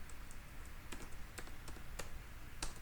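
Typing code on a computer keyboard for a Laravel 8 web project, with soft, irregular key taps scattered through a steady background hiss, fairly faint and with no voices.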